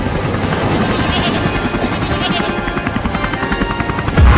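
A goat stranded in cartoon floodwater bleats repeatedly beneath the loud, steady chop of a hovering rescue helicopter, with no talk.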